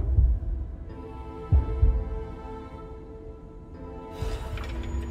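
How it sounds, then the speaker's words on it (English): A deep, throbbing heartbeat sounds in the video game Lies of P, with a few heavy thumps pulsing close and loud over a low droning hum. "I have a heartbeat?"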